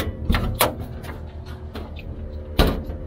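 A wooden storage door in a converted cargo trailer thumps open and shuts with a couple of knocks and a final firm bang, close by, with faint background hum.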